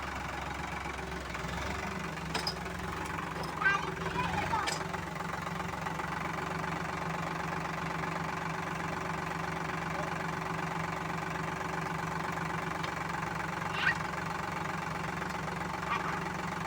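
A tractor engine runs steadily at close range with a knocking, idling drone while a new driver handles it, with occasional faint clanks over the continuous mechanical hum.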